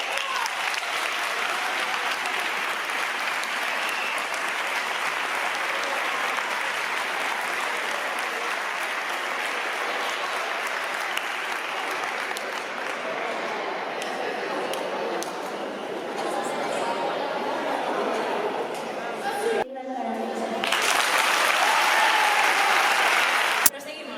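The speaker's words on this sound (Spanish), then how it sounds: "Un aplauso muy fuerte para David." Audience applause at a local sports awards gala in Jaraíz de la Vera, Spain, a long sustained round of crowd clapping that briefly dips near the end before swelling again, loud and steady.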